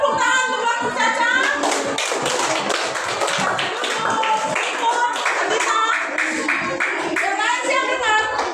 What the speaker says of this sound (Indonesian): tepuk tangan untuk waktu Caca.